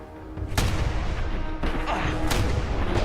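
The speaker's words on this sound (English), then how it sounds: "Point blank shotgun to the face did not kill him" Point-blank shotgun blasts in the video game Fallout 4, heavy booming shots with rumbling tails amid dense game noise, loud and close, repeated a few times over about three seconds.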